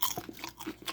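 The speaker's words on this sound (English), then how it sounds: "Let me take a munch of this popcorn. ASMR popcorn eating." Popcorn crunched up close between the teeth, several quick, crisp bites and chews packed into a second, loud and isolated.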